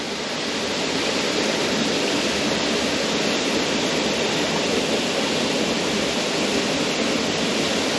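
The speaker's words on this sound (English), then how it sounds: "I am now here at a small waterfall." Small waterfall at Meiringskloof Nature Park, a steady, close, broadband rush of falling water that holds unchanged for the whole stretch with no voices.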